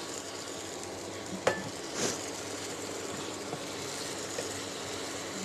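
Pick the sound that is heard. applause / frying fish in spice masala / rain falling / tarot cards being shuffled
frying fish in spice masala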